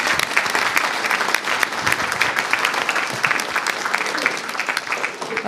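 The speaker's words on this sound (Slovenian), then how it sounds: "Dajte en aplavz, gospe, ki skrbi za vaše otroke" An audience at a lecture on parenting and raising teenagers applauds a woman who looks after their children, sustained clapping from a room full of people with sharp individual claps standing out, ending with a brief swell near the close.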